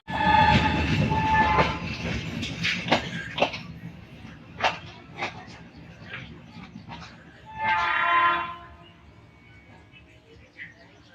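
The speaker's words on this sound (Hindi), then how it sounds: "ये हमारी ट्रेन स्टार्ट हो चुकी है मावली जंक्शन से।" A train pulls out of Mavli Junction station with a rumbling roll. A horn sounds, then come scattered clanks and clicks of the carriages. Voices and a cough can be heard nearby.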